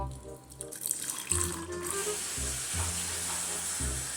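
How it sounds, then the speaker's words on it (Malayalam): Red Bull heating in a pan on the stove, a steady fizzing sizzle and bubbling hiss that swells after a second and holds, with a few clinks and low thumps underneath. "പാനിലേക്ക് നമ്മൾ റെഡ് ബുൾ കമത്തുക. ഇല്ല തിളക്കട്ടെ നല്ലപോലെ തിളക്കട്ടെ."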